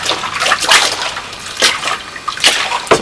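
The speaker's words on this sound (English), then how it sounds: "And then you wring it." Wet clothes washed by hand in a bathtub or storage bin being wrung out, loud close sloshing and dripping water with irregular splashy bursts.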